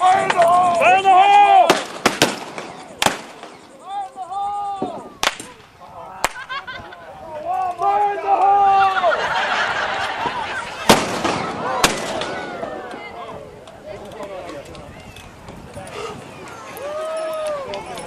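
Cannons fire at a pirate festival in repeated sharp, loud booms at irregular intervals, with crowd chatter and shouting voices throughout between the blasts.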